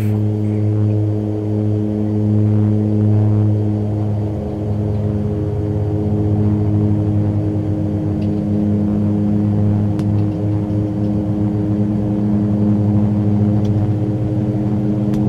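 Mitsubishi MU-2 turboprop on its takeoff roll in X-Plane 12, props full forward: a loud, steady droning engine roar with strong layered harmonic tones, building slightly in pitch and intensity over the run, with no talking.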